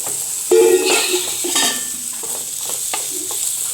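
Coconut pieces frying and being stirred in a pan for a curry, with a loud sizzle and repeated scraping strokes of the spoon against the pan, close up.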